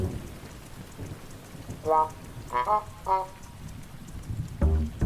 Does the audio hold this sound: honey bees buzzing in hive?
no